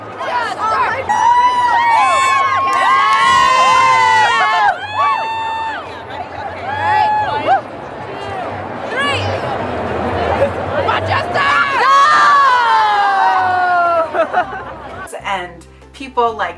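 A dense convention crowd at Katsucon screams, cheers and chants in loud, overlapping waves, with excited voices rising and falling close by before the noise thins out.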